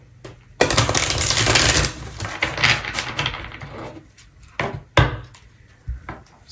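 Oracle cards riffled and shuffled by hand at close range, a long dense burst of crisp papery flutter followed by several shorter snaps and slaps of the deck.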